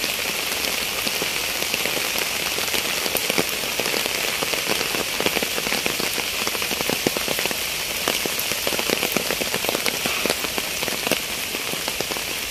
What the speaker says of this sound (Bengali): বৃষ্টির শব্দটা খুবই চমৎকার লাগছে, অনেক সুন্দর ভালো লাগতেছে।